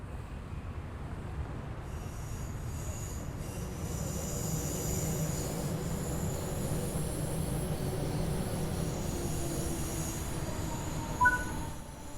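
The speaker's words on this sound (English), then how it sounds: "Your train has arrived." A DB BR110 train in Train Sim World rumbles steadily along the rails, a low continuous roar with faint metallic squeals and a hum, no voices.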